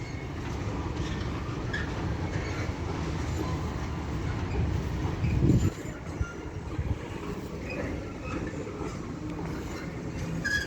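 A Class 170 diesel unit, 170459, pulls out of Doncaster station on a Scarborough–Sheffield service, a steady rumbling engine and rolling wheel noise close by, swelling briefly midway, with no talk.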